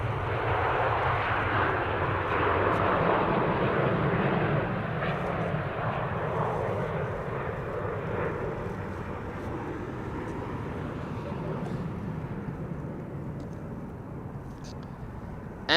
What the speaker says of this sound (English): Beautiful Dreamliner over here.